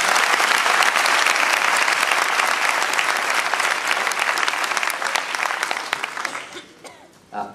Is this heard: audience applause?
yes